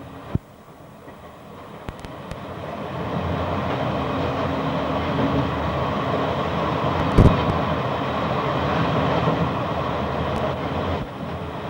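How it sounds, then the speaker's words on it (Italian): An Italian passenger train of the 1990s runs through the Gorizia freight yard, gathering speed toward 80 km/h, with a steady rolling rumble and rattle, a sharp click near the start and a brief clank partway through. "mentre il treno riprende la velocità di 80 km/h."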